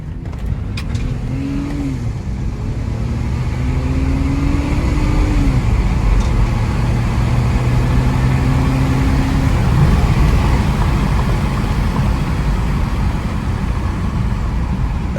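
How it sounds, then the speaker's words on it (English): A 2007 BMW X3 M-Sport accelerates hard from a standstill in a 0 to 60 run, its engine note rising through the gears with audible shifts, loud and close inside the cabin, with no talk over it. "Should we do a little 0 to 60 test?"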